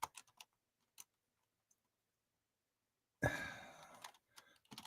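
Brisk burst of computer keyboard typing, a rapid cluster of clicks close by after a few scattered isolated taps, set in a quiet room.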